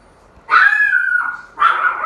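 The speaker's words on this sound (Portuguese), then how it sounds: "é a minha cachorrinha, tá?" A small pet dog gives two close, loud, high-pitched barks that stretch into whiny yelps, with a short gap between them and no other sound around.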